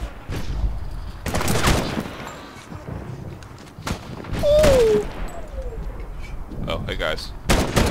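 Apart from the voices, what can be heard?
gunfire in the video game Medal of Honor 2010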